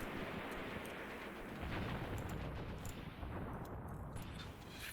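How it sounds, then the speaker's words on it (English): Battle noise from the wargame Graviteam Tactics: dense, continuous rumbling gunfire and distant artillery booms blend into a loud, roaring wash with occasional sharper cracks and no voices. "Who's still shooting in here?"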